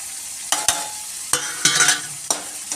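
Spices being stirred into soybean keema in a hot oiled pan, with a few distinct scraping strokes of a spoon over a steady soft sizzle, close by with no talking.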